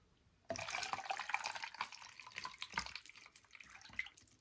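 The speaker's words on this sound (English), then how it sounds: "Now I'm going to put water around it, and we're going to cause it to float." Water poured into a container around an ice cube to set it floating, a steady splashing pour starting after a short silence and running on with gurgles and drips, close and fairly loud.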